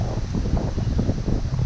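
Steady gusty wind buffeting the microphone outdoors at a log slabbing job, a continuous low rumble with no voices.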